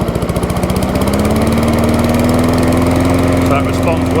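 A BCM Big 20 lawn mower engine idles with a rapid chugging pulse, then revs up smoothly and holds at a higher, steady drone, close and loud.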